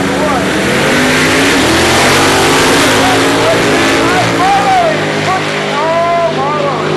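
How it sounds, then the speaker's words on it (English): A Camaro drag racing down the strip at an X275 event at Maryland International Raceway roars at full throttle, its engine note rising and falling through gear changes as it passes, loud and steady throughout. "Perfect conditions to get that Camaro down the track."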